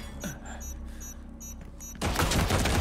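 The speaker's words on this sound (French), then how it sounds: "Ah putain, mais c'est une tourelle !" Turret opening fire in Resident Evil 4 Remake: a few faint mechanical clicks and taps give way abruptly to a loud, dense burst of rapid shots that runs to the end.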